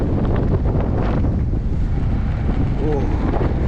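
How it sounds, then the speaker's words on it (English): Strong night wind buffets the microphone while a rider pushes an electric skateboard through a mall area, a constant loud roaring rush with gusty swells throughout. "I'm up against the wind."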